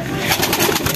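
A racing pigeon coos up close, a loud, low, rolling throaty call filling the short moment with no talking.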